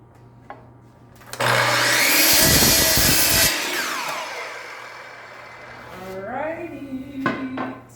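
A chop saw cuts a piece to 17 inches, a loud whining motor spin-up and harsh cutting burst lasting about two seconds, then a winding-down whir, followed by clattering and brief talk.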